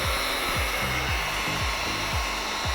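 A heat gun blows steadily onto ceramic window tint film on the front door window of a Lexus GX. The close, loud airflow roar holds constant, with a faint low rhythmic pulsing underneath and no voices.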